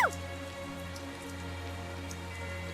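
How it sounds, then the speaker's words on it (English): Steady rain falls in the video game Tales of Zestiria, a continuous even patter over a low droning hum that runs unchanged throughout, with no voices. "Tell us the details after we find shelter from the rain, if you please."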